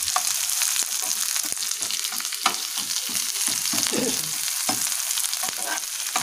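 Chopped onions fry in oil with a little ghee, a loud continuous sizzle close up, broken by intermittent scraping stirs of a spatula, with no talking.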